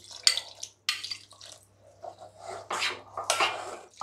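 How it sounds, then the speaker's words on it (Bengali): Water swirled out of a rinsed yogurt cup into semolina batter for a sooji sandwich makes brief, quiet splashes and trickles in several separate bursts. "দইয়ের কাপটা ধুয়ে দিয়ে দেবো একটু জল"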